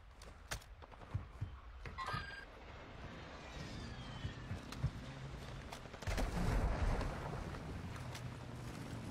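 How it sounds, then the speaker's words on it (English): Video game gunfire crackles in scattered bursts of sharp shots, mostly distant, over a rough wash of wind and water noise, with no talking. "They're shooting behind us right now, and they're shooting in those red buildings."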